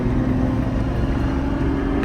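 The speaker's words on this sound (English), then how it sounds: "the car is revving" A Troopy 4x4 engine idles and revs at a border crossing in the morning, a loud, continuous mid-pitched rumble close up with no voices.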